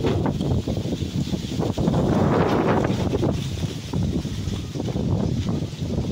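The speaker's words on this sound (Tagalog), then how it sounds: "Lakas ng hangin" Strong wind gusts buffet a terrace after a flood, a rough, roaring rush of air that swells and dips without pause.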